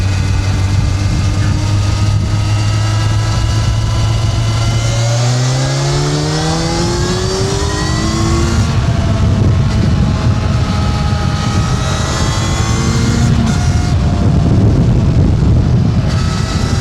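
Kawasaki Ninja 1100SX motorcycle on an open road, its engine note rising and falling steadily through gear changes with continuous wind and road roar throughout, no voices.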